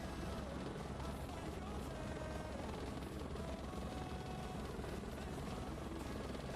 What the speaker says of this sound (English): The friggin' stinking helicopter's louder than the music.